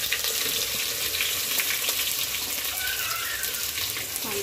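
Onions frying in hot oil, meant to turn golden for a tandoori chicken biryani, give a continuous moderate hiss and sizzle with a watery, even texture and no talk.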